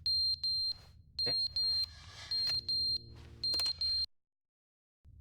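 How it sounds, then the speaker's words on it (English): A fire alarm in The Stanley Parable video game sounds a loud, shrill electronic beep in repeated short bursts with irregular pauses, then cuts off into silence. "What's that beeping noise? Oh, it's the fire alarm."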